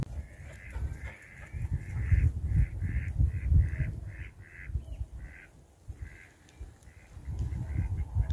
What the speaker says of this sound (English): There's a flock of, I think they're mallard down there. Looks like there's geese further out.